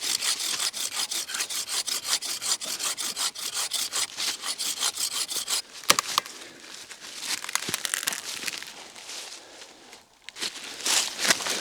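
A handsaw cuts through a dead tree limb outdoors with steady, rapid back-and-forth strokes, close and loud. Near the end the strokes break off into a few cracks, rustles and scattered rubbing sounds.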